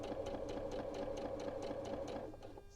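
A sewing machine stitches fabric with a 1/4 inch foot, a fast, even mechanical chatter of needle strokes humming steadily at close range, slowing slightly at the end.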